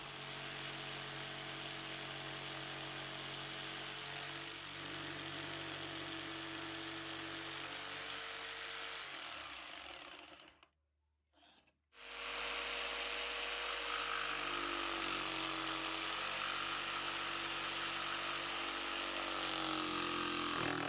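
A jigsaw fitted with a Bosch blade saws through wood with zero oscillation, a loud continuous buzzing drone that stops briefly midway and then resumes just as steadily for the rest of the cut.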